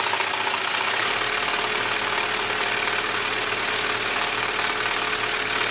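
A sewing machine stitching fabric runs steadily throughout, a continuous mechanical whir with fast rhythmic pulsing close by, and no one speaks.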